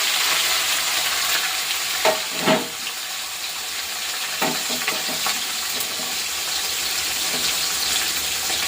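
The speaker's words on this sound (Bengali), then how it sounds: "মাছটা ভেজে তুলে রাখবো" Fish fries in a hot pan with a constant loud sizzle and crackle, joined by a few sharper clatters of stirring or handling, close up with no talk.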